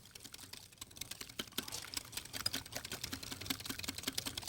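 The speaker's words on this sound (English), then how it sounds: "you keep whisking it and whisking it over the double boiler" Whisk beating a mixture in a bowl set over a double boiler, a faint, rapid run of light clicks and taps growing slightly busier, close and alone without talk.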